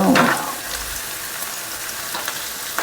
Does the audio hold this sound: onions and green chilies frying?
yes